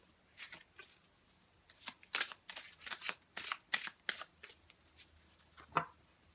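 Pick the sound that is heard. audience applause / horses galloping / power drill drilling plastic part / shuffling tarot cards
shuffling tarot cards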